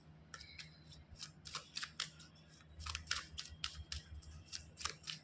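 A deck of tarot cards shuffled by hand at close range, with quiet crisp riffling and flicking bursts in uneven clusters over a low hum.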